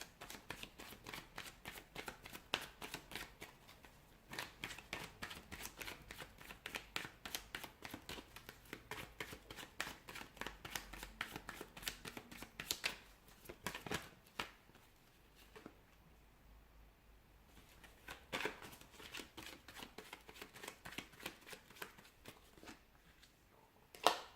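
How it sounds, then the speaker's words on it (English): Continuous riffling and flicking of a tarot deck being shuffled, rapid crisp bursts repeating for the whole stretch, close and fairly quiet, with no talking. "give the cards a shuffle"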